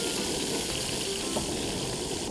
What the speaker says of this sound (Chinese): 锅热倒油，然后这个螃蟹直接给它下去